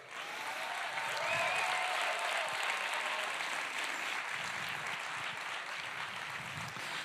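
Audience applause at the awards night of the 30th International Fantastic Film Festival, a steady roomful of clapping with faint whoops, continuous and even for about seven seconds.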